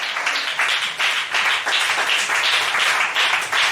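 Church congregation applauding together, a dense, steady wash of clapping hands with rhythmic swells, close and loud throughout, no voices.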